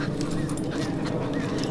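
A dog whimpers and whines in short high-pitched cries over a dense, noisy background, fairly close and continuous for a moment.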